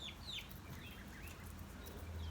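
Backyard chickens kept for eggs in an urban setting, soft clucks and chirpy calls scattered over a steady low hum, moderately near and continuous.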